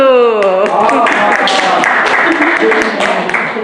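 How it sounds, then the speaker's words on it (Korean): Audience applause in a Korean Won Buddhist temple talk, a dense, steady burst of many hands clapping with voices mixed in underneath, loud and close throughout. "박수!"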